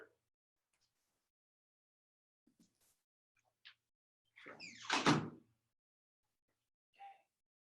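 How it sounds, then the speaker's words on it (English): A door being closed indoors during a dog training session: a brief loud thud with a creak and rattle, preceded by faint scattered clicks and followed by a small knock, otherwise quiet. "close the door here"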